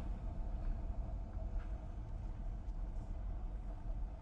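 An LS-swapped Mazda B2200 pickup truck drives slowly, giving a steady low engine and road rumble heard from inside the cab, fairly quiet and with no talk.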